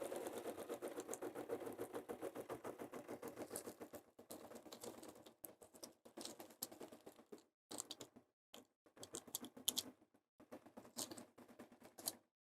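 A home embroidery machine stitches placement lines for cucumber eye patches on a Kimberbell craft project. Its rapid, even needle chatter runs steadily, then breaks into short stop-start bursts separated by brief pauses, close and fairly quiet.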